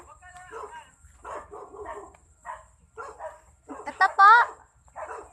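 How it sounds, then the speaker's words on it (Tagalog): Several dog barks and yips ring out amid people talking nearby at a typhoon-damaged house, with a sharper burst of barking near the end. "May aso man."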